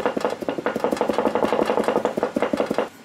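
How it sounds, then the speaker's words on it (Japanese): A knife mincing garlic on a cutting board, rapid steady chopping taps close by, continuous for a few seconds with no voices. "ニンニクをこう、みじん切りにしてね。"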